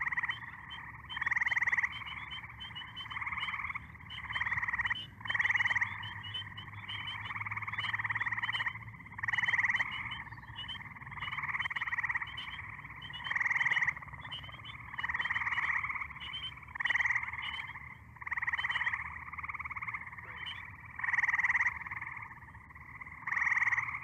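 Gray tree frogs calling in a watershed, repeated short trilling bursts every second or two, fairly clear and steady over a low background hum, with no talking.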